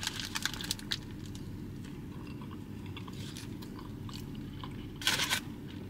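Crunchy bites and chewing of a Checkers/Rally's Big Buford burger, close to the mic, with soft mouth sounds throughout and a louder burst of crunching near the end.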